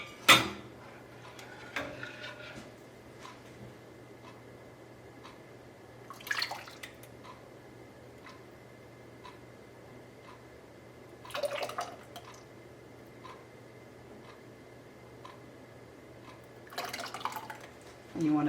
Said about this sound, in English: Start filling up these jars.